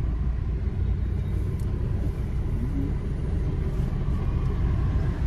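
A car sits idling at a traffic signal, heard from inside the cabin as a low, steady engine rumble with faint road noise and no talking.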